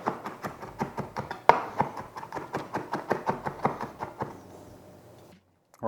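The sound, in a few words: knife chopping garlic cloves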